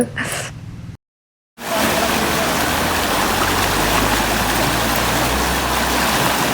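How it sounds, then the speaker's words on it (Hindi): A swollen river crossed on foot on the way to a house, its water rushing loud and steady after a short silent gap near the start. "तो पानी की आवाज़ से ही आप अंदाज़ा लगा सकते हो कि पानी कितना था।"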